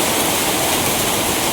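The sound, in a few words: water flowing into a handloom pit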